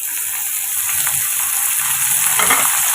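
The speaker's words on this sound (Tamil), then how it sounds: "சேர்த்துட்டு இந்த ஒரு ரெண்டு நிமிஷம் நம்ம வதக்கி விட்டுக்கலாம்" Small onions and tomatoes sauté in a pan for a pirandai chutney, giving a loud, close, steady sizzle with stirring scrapes throughout.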